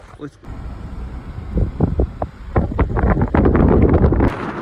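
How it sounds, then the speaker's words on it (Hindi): Strong mountain wind in the Spiti Valley near Tabo buffets the microphone in loud, irregular gusts and rumbles that build toward the end, with possible voices mixed in. "बहुत तेज हवा है भाई यहाँ।"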